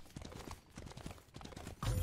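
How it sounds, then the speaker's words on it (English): Hooves clip-clop in a steady walking rhythm as a horse is ridden in the game Mobile Legends by the hero Lancelot, with a louder thump at the end. "Because then I can hop on my horsey and run away."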